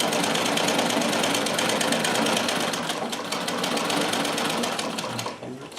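A Riccar 570 sewing machine fitted with a chain stitch plate runs steadily and loudly close by, with a dense rapid mechanical clatter and a slight grumble before it slows near the end.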